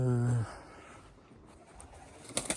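Pigeons coo softly and close by as they are released into their coop, with a voice talking briefly at the start and a burst of wing flutter or movement near the end.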